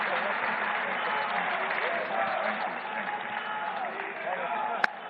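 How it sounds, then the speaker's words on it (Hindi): Sustained crowd applause fills a hall at a Delhi BJP event marking 100 days, with the Chief Minister and actor Anupam Kher present. The clapping holds steady and dense throughout, with voices mixed into the crowd noise. "सबके लिए मैं चाहूंगी जोरदार तालियां हों।"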